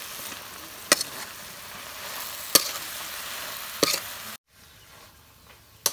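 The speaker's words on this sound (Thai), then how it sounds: "ผัดคะน้าปลาชะโดเค็มนะครับดูนะครับผัดให้เปิดน้ำซอสนะ" Chinese kale being stir-fried with salted snakehead fish sizzles softly in a pan, punctuated by three sharp scraping stir strokes, then a brief drop to silence before another clatter; no voices.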